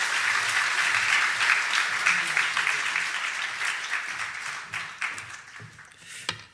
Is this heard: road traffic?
no